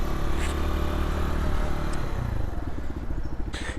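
A decommissioned motorbike engine runs close by with a steady low rumble, then stumbles and bogs into an uneven, pulsing idle near the end, with no voices over it.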